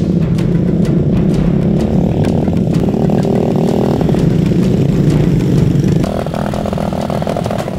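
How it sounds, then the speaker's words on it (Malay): A modified motorcycle in Pinrang, South Sulawesi, hauls harvested rice grain to the drying area. Its engine drones loud and close the whole time, with rough rattling and a slight shift in tone near the end. "Motor yang dipakai sudah dimodifikasi menyesuaikan kondisi jalanan."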